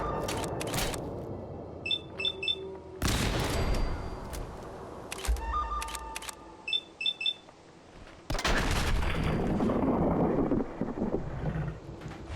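Bursts of gunfire from a Fallout 4 firefight, with loud broadband blasts and short rapid volleys recurring through the passage, some close and punchy, others sharper, with wind-like noise filling the gaps.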